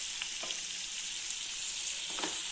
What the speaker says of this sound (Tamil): இந்த எண்ணெயிலேயே அப்படியே ஃப்ரை பண்ணிடலாம்.